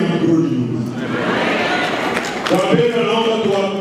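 Crowd clapping in thanks at a public gathering, a dense, steady wash of applause filling the whole stretch with no break, swelling slightly toward the end.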